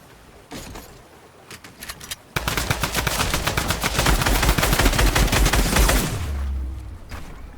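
Rapid bursts of Drum Gun fire in Fortnite, a fast rhythmic rattle of shots that starts abruptly, runs loud and dense for several seconds, then stops, with a few scattered clicks before it.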